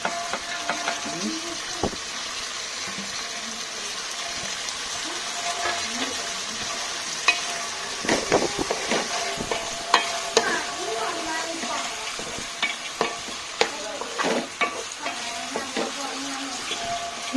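Onions and tomatoes fry in a pan for beef chaps, a steady soft sizzle under repeated scraping and clacking of a stirring spoon, with sharper knocks bunching toward the end.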